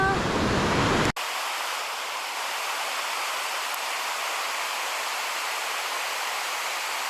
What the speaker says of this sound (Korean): 물소리가 시원합니다